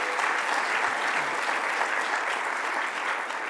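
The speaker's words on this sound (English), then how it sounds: "Let's give a round of applause to Commissioner Jackie Bray." Steady, dense applause from an audience at a public event honoring an emergency services commissioner, sustained and even throughout with no talking over it.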